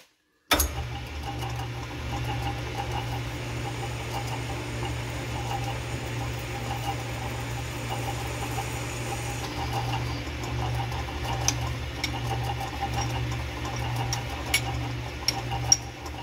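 A planer drive roll turning on a lathe while a center hole is machined into its end, a steady low motor hum with faint cutting chatter and a few small clicks, continuous throughout.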